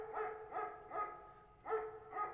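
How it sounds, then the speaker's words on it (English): A dog barking in a quiet indoor setting: five sharp, evenly spaced barks, fairly faint and distant, with no talking over them. "a dog is barking"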